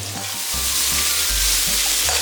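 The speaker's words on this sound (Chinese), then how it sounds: "另起锅烧油，来把鱿鱼炒香" Squid stir-fries in hot oil in a wok, with a loud continuous sizzle and crackle and a spatula scraping and tossing at intervals.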